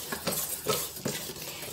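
Tapioca starch and wheat flour being stirred together in a bowl, giving a few soft scraping strokes with light utensil clinks, close and quiet, with no talking.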